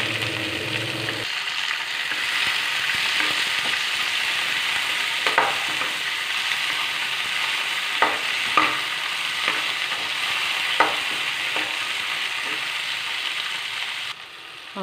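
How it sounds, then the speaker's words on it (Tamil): Onions and tomatoes frying in a pan, a continuous hissing sizzle with occasional scraping stir strokes, close and steady throughout before the sound drops away at the end. "ஆனியனும் தக்காளியும் நல்லா ஃப்ரை ஆகிடுச்சு"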